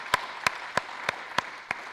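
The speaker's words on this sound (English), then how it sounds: "round of applause for our gold sponsors" At a radio technology conference, a few audience members clap in a sparse, slow run of six separate claps spaced evenly apart, moderately close and otherwise quiet.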